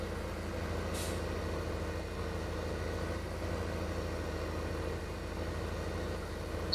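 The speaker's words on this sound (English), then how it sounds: "So you hear the revs of the engine, and I think it's way, way too high" Tractor engine in Farming Simulator 15 running at very high revs, a steady, loud droning hum with constant rumble throughout and no speech.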